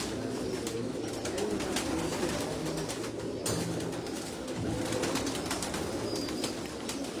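Pigeons coo continuously inside a small, cramped rooftop loft, a dense, steady layer of low throaty calls close by with occasional wing flutters and scuffs.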